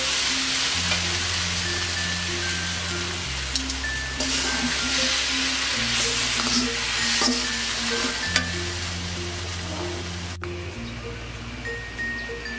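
Chicken noodles being stir-fried in a pan, a steady sizzle with scraping and stirring throughout, with a musical backing track playing over the cooking.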